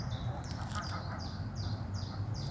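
A goose gives a run of about six short, nasal honking calls in a quick, regular series, faint and somewhat distant against a soft outdoor background.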